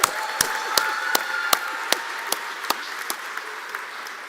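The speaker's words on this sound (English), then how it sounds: "Can we do one more round of applause?" At an Oregon Executive MBA commencement, one person claps slowly and sharply, about a dozen evenly spaced claps, close and distinct against a quiet room rather than a full crowd.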